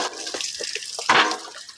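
Water poured outdoors near a pool, a splashing gush that swells midway and trails off, close and fairly loud with smaller drips and splashes before it.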